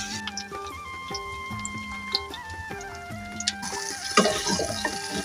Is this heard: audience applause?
no